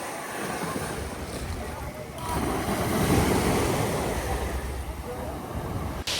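Sea waves wash steadily onto a beach in Marsa Matruh, with a continuous surf roar, swelling louder midway, mixed with wind buffeting the microphone and no clear voices.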